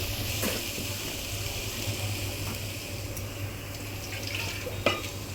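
Food frying in oil in a pan on a home stove, stirred now and then, with a steady low sizzle throughout and a brief clatter of the spoon near the end.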